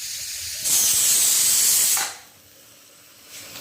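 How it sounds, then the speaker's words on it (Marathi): A pressure cooker whistle: a loud hissing whoosh of steam bursts out for over a second, then cuts off sharply, leaving quiet before a faint hiss returns. "कुकरची शिट्टी झाली चला बंद करायला"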